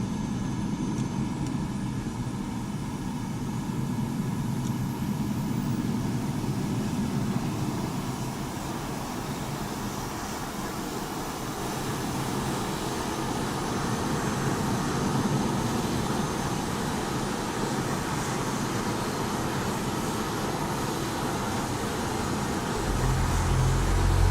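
A BAe Hawk jet engine in a flight simulator spools up from a start, a steady broadband whine and rumble that holds at a constant, fairly quiet level and swells slightly toward the end.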